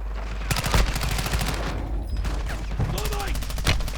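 Rapid pistol gunfire in Call of Duty Warzone 2.0, a quick string of sharp close shots in bursts over constant game noise, with a voice speaking between the shots.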